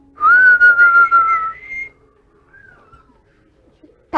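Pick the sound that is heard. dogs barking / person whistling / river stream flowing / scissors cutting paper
person whistling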